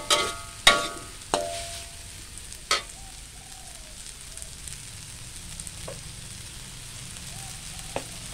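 Tofu and egg with holy basil stir-fry in oil with a soft continuous sizzle, punctuated early on by several sharp metallic spatula clanks against the pan and fainter scrapes later, close and without talking.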